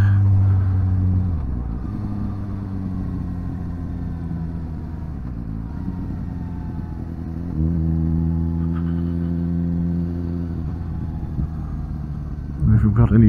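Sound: Suzuki GSX-S750 motorcycle exhaust

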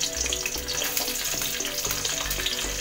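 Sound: ivy gourd (kundru) frying in hot oil

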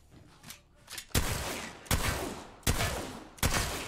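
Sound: Mastiff shotgun with purple bolt firing rapidly, Apex Legends video game

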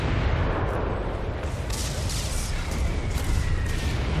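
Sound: mortar bombardment in video game Guild Wars 2

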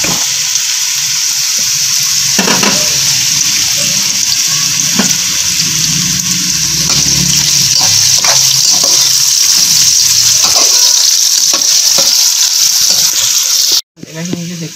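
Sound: carrots frying in cooking oil

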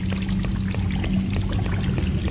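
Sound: rising water in a video game

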